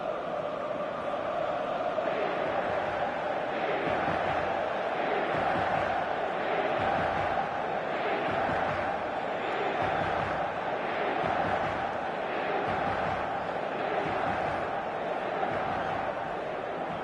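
A packed stadium crowd in a football video game roars in a dense, continuous wash of cheering and chanting that holds steady and loud throughout, with no distinct talking above it.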